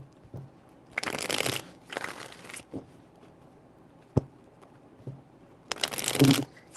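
Cards are shuffled up close in three separate papery bursts, two back to back early and one after a pause, with faint taps and handling noises between them and no voices.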